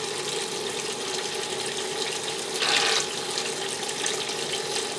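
A small pump circulates descaling solution through hoses in a tankless water heater, producing a steady, even rush of flowing water with a faint mechanical hum and a short louder splash midway.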